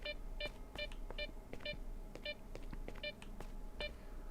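Short electronic beeps from S.T.A.L.K.E.R. repeat at a steady rhythm, about two per second, over a low background hum.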